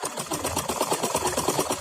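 Sewing machine stitching fabric for a churidar pajama waistband, a close, steady rapid chatter of the needle running continuously without talk.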